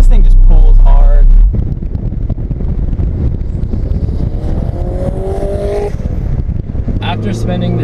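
Toyota MR2 Turbo accelerating hard, its engine drone rising steadily over heavy wind rush inside the cabin, close and loud, with someone talking briefly.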